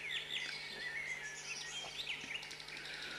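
Small birds chirp and tweet in a garden in Lanvalet, a steady stream of bright, overlapping calls and short trills with a faint low hum beneath.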